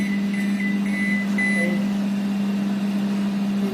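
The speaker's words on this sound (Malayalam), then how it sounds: "ബേക്ക് കഴിഞ്ഞപ്പം ഓവൻ്റെ ശബ്ദം" A kitchen oven beeps to signal that a baking cake is done, a steady electronic tone held over a constant appliance hum and repeated in short high chirps across the early seconds, with no talking.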